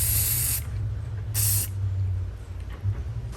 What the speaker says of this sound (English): so I'm gonna spray some more again